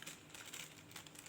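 A plastic bag crinkles and rustles steadily up close while chopped onions are packed for freezing in a home kitchen, with no talking.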